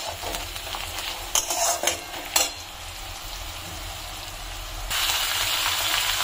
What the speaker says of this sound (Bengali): এ দেখো পেঁয়াজগুলো অল্প অল্প ভাজা হয়ে গেছে, তো আর একটু ভাজা হোক